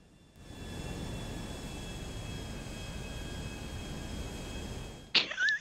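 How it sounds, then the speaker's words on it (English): An airplane roars past in a video game, a broad steady engine rush holding for several seconds before a sharp bright whoosh and clatter at the end. "It's the sound of the plane going past that."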